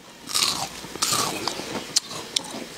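Crisp bites into deep-fried small crispy pork (xiao su rou), twice-fried until crunchy, giving sharp close crunches and crackles in a few quick bursts, with no talk over them.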